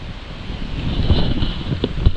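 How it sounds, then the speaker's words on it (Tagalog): Steady typhoon wind blowing across the microphone with low rumbling gusts and buffeting bursts, continuous and fairly loud throughout, amid rainy weather. "Kaso pa rin yung panahon, mahangin, maulan."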